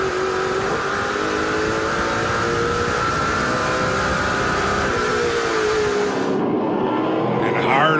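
Onboard engine of a NASCAR Pinty's Series stock car racing at ICAR, a loud sustained roar with shifting pitch as it holds speed and then backs off, with a commentator talking over it.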